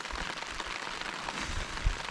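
Light rain falling at an early-morning camp on a canoe expedition in Sweden, a soft, even hiss of drops with a few slightly louder patters, faint and steady throughout.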